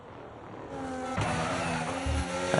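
Race cars on track in a racing game, engines droning with rising pitch as they pass close, a brief louder burst near the end; no talk.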